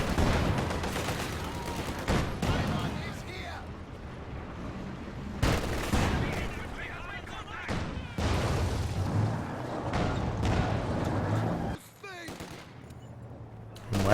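Machine gun fire from a garrisoned building in Company of Heroes 2, dense continuous rattling bursts mixed with heavier booms and battle noise throughout, with a voice talking over parts of it.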